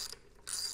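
Ratchet wrench tightening suspension bolts into aluminum on an adjustable inverted front fork install, giving two short bursts of quick clicking close by with no voices.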